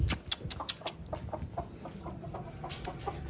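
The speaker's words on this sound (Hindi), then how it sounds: "अब ये मुर्गियाँ अपने कमरे में चली जाएंगी" Hens clucking and chattering as they head into their coop for the night, a string of close, short calls in an uneven rhythm, with no talking over them.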